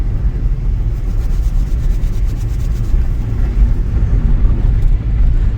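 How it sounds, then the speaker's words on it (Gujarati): A second car draws up alongside on a highway just past a toll gate during a road trip. A steady, loud low engine and road rumble runs throughout with no talking. "ચાલો આપણી બીજી ગાડી અહીં પૂગી આવી છે બાજુમાં"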